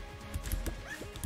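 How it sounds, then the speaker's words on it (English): Short yips and barks from a pet dog in Enter the Gungeon, a few quick close bursts over game sounds. "Oh, I can pet my dog!"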